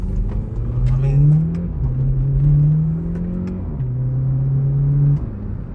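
Engine of a 2016 VW Polo 6c GTI revving through several steady held pitches with brief drops between them, loud and close with a constant low rumble.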